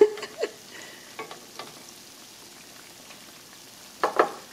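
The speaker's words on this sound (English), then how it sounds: "I'm going to keep frying these up for us" Oil sizzles steadily in a hot pan as corn dogs fry, with scattered louder pops and spits, the loudest bursts near the start and end.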